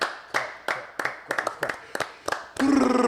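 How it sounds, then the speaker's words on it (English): A small group claps in a steady, somewhat sparse rhythm of separate sharp hand claps, close by, ending with a voice cutting in over the last beats. "A round of applause for this."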